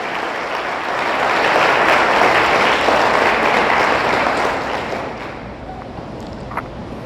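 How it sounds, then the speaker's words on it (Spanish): Loud, sustained applause from a church congregation fills the space for several seconds, then tapers slightly toward the end. "Dele fuerte el aplauso."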